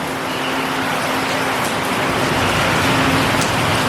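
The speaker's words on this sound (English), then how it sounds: "It's been pouring heavy." Heavy rain pours steadily at a theme park, a loud, dense, continuous hiss with a faint low hum beneath and no voices.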